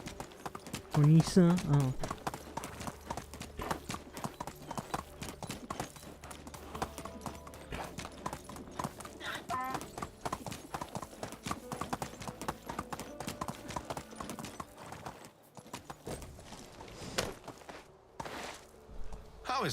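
Horse hooves clip-clopping at a steady gait in the video game Medieval Dynasty, a continuous rhythmic stream of hoofbeats on a path, with a brief whinny early on and someone speaking briefly over it.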